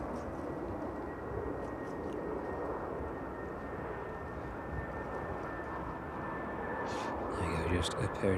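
Airliner landing at East Midlands Airport in the evening, a steady broad engine roar with a faint high whine, distant and even, swelling slightly at the end; a voice talks over it.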